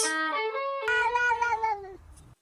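A kitten gives a long, clear meow, close and alone, its pitch rising slightly and then sliding down before a second, softer drawn-out call.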